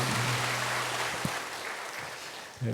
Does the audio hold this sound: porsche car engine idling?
no